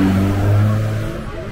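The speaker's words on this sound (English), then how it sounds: "So these, you can get little buses here, shuttle buses." A small shuttle bus idles and revs low on a crowded market street in Quetzaltenango, Guatemala, its engine rumbling steadily and close, then easing off toward the end.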